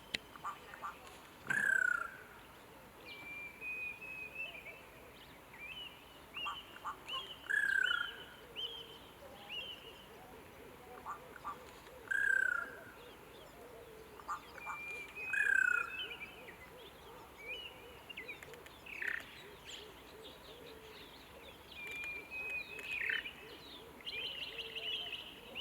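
A shrike-like bird in Greyton, South Africa, gives repeated sharp, whistled calls at intervals of a few seconds, clear over a quiet outdoor background with faint voices.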